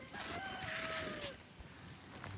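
A chicken near a pig fence gives a short rising call followed by a sustained warbling cluck, faint against outdoor background noise.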